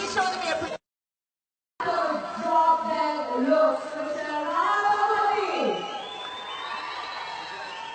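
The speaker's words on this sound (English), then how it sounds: "Let's have a huge, huge round of applause." Crowd at a film function with Prabhas, Rana and Anushka cheering and shouting loudly, with whoops and youthful yells filling the hall after a brief cut to silence.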